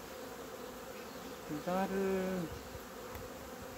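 Honeybees buzzing steadily from an opened hive headed by a black queen, a continuous close hum that keeps going while a voice briefly speaks partway through.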